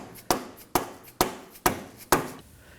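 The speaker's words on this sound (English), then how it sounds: "I'm using a mallet." A mallet taps the rear axle on a Nissan Armada hub, five sharp, evenly spaced knocks that ring briefly, close and clear with no talk.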